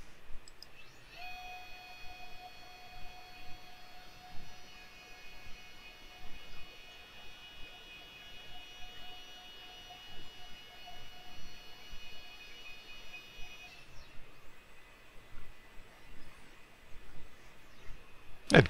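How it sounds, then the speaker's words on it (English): A Genmitsu 3020 Pro Max CNC router by Sainsmart moving its spindle back to the zero point, giving a steady, fairly quiet whine of stepper motors that runs for about twelve seconds and then stops. "let's see what happens if we send the spindle to zero"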